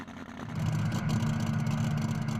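Dirt track tractor pull run by a Kentucky team, the pulling tractor's engine roaring loud and steady close by, rising in intensity early on and holding a heavy, sustained drone throughout, with no talk.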